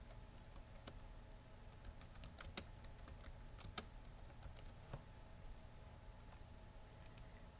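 Quiet typing on a computer keyboard, a steady patter of light key clicks with a few sharper taps, close and faint with no talk, as a name is entered into a text field.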